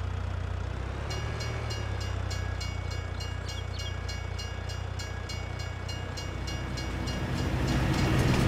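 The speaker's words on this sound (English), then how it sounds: "let's just pause here and let the train pass." A train in Farming Simulator 22 rolls past nearby with a loud continuous rumble and a steady, rhythmic clatter of wheels over rail joints that builds slightly toward the end.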